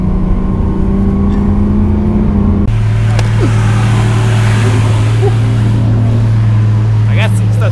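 A Lamborghini Aventador SVJ's engine roars at high revs, then drops sharply at a fast gear shift and pulls hard again in a loud, continuous drive, with faint voices underneath.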